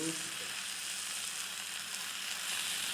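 Tandoori chicken sizzles steadily under a lid in a covered pan, a dense, even, close frying hiss that holds without a break.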